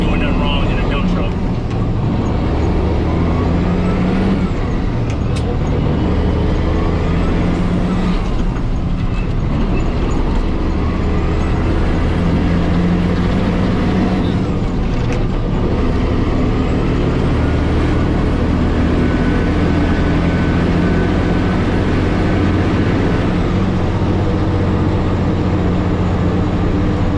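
A dump truck engine at a job site drones loudly and continuously, its pitch shifting as gears are floated without the clutch, with someone talking over it.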